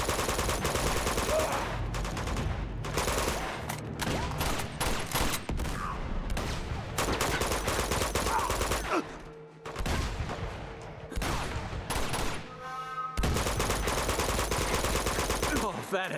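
Enemy gunfire in the video game Uncharted 2: Among Thieves, with dense, continuous loud bursts of automatic fire and rapid shots that barely let up, briefly pausing before resuming.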